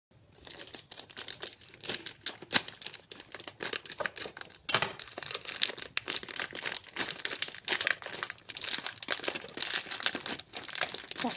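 Thick, high-quality plastic wrapping around a stapled tin package being torn and pulled apart by hand, with dense, continuous crinkling and ripping bursts close up and no talk.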